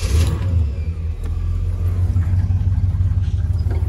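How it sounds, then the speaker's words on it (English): A car engine runs at steady idle, set up for adjusting ignition timing with a timing light: a close, continuous low rumble with an even pulse and no talking. "So you need to make sure your car is running."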